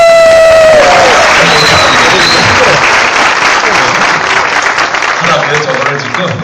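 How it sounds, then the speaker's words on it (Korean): Applause from a university lecture audience fills the space loudly and densely, a broad wash of many hands clapping with some cheering, fading slightly toward the end after a brief voice at the start. "자, 여러분 박수가 부족해서"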